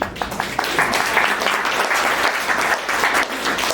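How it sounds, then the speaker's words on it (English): Audience applause fills the room at the opening of a special exhibition on the Jewish Orphans' Home of New Orleans, a steady, dense wash of many hands clapping at once that holds even and loud throughout. "We can clap for Lizzie Meister"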